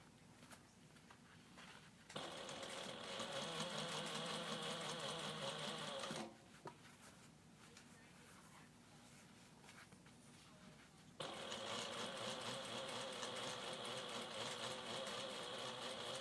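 A sewing machine top stitching a foam-lined clutch runs in a steady, fairly quiet hum, with a pause between two long stitching runs and no talking.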